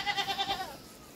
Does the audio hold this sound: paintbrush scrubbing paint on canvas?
no